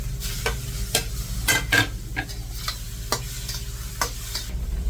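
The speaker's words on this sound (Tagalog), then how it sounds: "igigisa" A pan sauté for ginataang labong with shrimp, where a spatula scrapes and knocks in quick, irregular strokes over a steady sizzle, close and clear with no talk.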